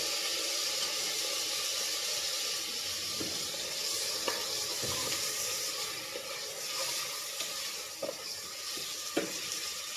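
Chopped onions and tomatoes frying in a pan give a steady, close sizzle throughout, with occasional light clicks from stirring and no talk.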